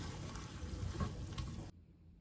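Meat frying with spices in a pot with a dense, steady sizzle up close, cutting off abruptly near the end.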